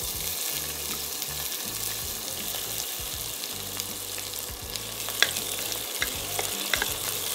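Small onions sizzle and fry in hot oil with cinnamon, cardamom and cloves for Ramadan nombu kanji, a steady close crackle with occasional stirring clinks and no talking.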